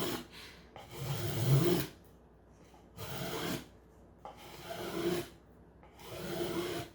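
Rhythmic rasping strokes from carving and shaping a cedar wood flute, four or five separate scraping passes with quiet gaps between them, close and fairly soft.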